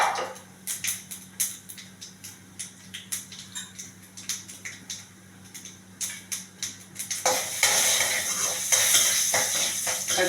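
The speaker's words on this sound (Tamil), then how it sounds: "கடுகு நல்லா பொரிஞ்சிச்சு" Mustard seeds spluttering in hot oil while cooking a raw banana fry, a faint scattered crackle and patter that swells into a loud steady sizzle near the end.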